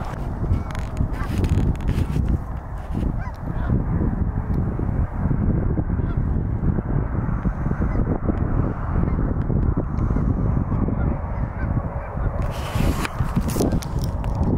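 Geese honking as a flock flies over during a Northern Colorado goose hunt, a steady chorus of calls over dense outdoor background noise, fairly loud throughout.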